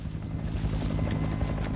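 Military helicopters unload a wave of soldiers during a Vietnam War operation. A loud, continuous rotor drone with a throbbing beat holds steady throughout, with no voices over it.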